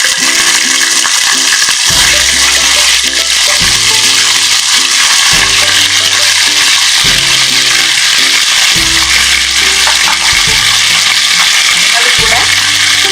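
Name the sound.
washed chicken frying in a pan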